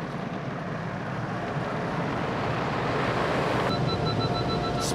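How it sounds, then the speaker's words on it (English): Automatic car wash spraying a car's underbody, a loud continuous rushing hiss of water jets against the underside, heard from inside the vehicle with a faint tonal whine near the end. "now we're going through the underbody to spray the bottom."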